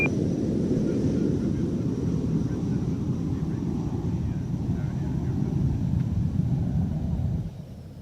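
An Avro Vulcan passes at an airshow as a loud, sustained low roar with wind buffeting the microphone, dropping off sharply near the end.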